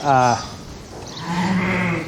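Sheep and lambs in a crowded lambing shed give loud, close bleats, one at the start and a lower, longer call toward the end, with no talk over them.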